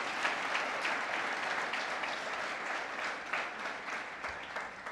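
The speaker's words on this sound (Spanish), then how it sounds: "Ese aplauso al Señor Jesucristo." A church congregation applauds in worship, a steady, moderately distant wash of clapping that holds evenly throughout.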